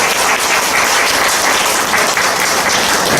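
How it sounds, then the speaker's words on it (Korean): Dense applause from an audience at a book launch event, a steady full wash of many clapping hands lasting a few seconds with no talk over it. "우리 다시 한 번 더 응원의 박수를 부탁드립니다"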